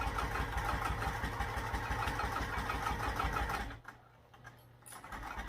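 Sewing machine stitching a backpack seam with a seam-allowance guide attached, running steadily and loudly for most of the moment before easing off to a quieter pause near the end.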